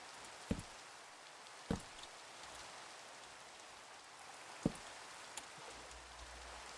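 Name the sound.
rain falling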